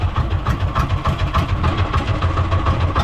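A boat engine idles at sea, a steady close mid-pitched throb with a rapid pulsing rhythm that runs without a break, loud and alone with no voices.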